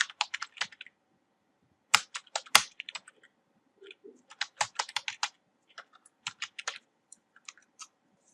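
Typing on a computer keyboard: close, quick bursts of crisp key clicks in irregular runs with short pauses between them, no voices.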